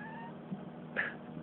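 A black cat shut inside a box meows once, a short, clear, close cry over a quiet background hum, with faint stirring before it.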